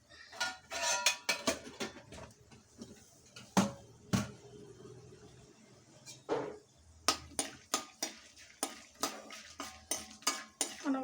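Sharp metallic clinks and scrapes of a spoon against a pan while frying peanuts, urad dal, mustard seeds and cumin for upma tempering, irregular bursts of stirring with brief pauses, close and fairly loud.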